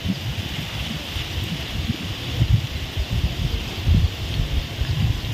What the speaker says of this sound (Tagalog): it's little bit windy here